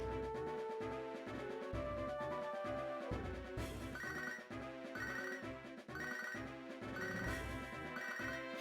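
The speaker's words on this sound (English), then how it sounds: "getting a phone call on his Pokemon" A ringtone plays inside a Pokémon video game, a synthesized telephone ring that repeats in a steady pulsing pattern over a musical backing, loud and alone.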